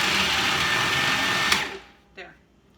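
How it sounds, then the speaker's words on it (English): An old food processor pulses walnuts, a loud steady whirring grind that cuts off abruptly, followed by a short quieter burst of motor whir near the end. "First thing we're going to do is pulse the walnuts a little bit to get them smaller."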